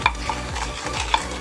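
A spoon scrapes and swirls through a bowl of flour and baking powder for a cake batter, making soft rhythmic sweeps with a couple of light clinks against the bowl, close and fairly quiet.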